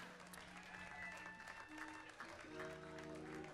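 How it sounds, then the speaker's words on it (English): Audience applause at an outdoor blues festival set, faint and steady across the crowd, with sustained musical tones from the band lingering underneath. "How about a round of applause for my boys up here, everybody?"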